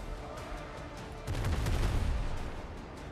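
A volley from ship cannons in the pirate game Windrose, a dense burst of booming shots that breaks out partway through over steady background game noise, loud and close.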